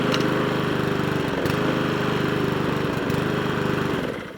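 A Mountfield HP41 lawnmower engine with a slight hunt-and-surge fault runs loud and close, its rapid firing pulses rising and falling in speed before it winds down.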